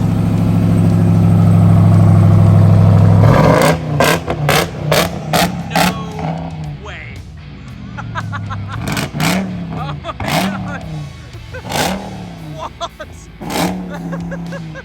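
A Dodge Ram pickup with a 6.2-litre supercharged V8 of about 1,000 horsepower roars steadily, then fires off a string of sharp, loud revs close by, with people talking and reacting between them.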